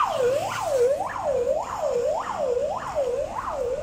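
Police car siren wailing in a steady repeating rise-and-fall cycle, about six sweeps, fairly loud and close with no talk over it.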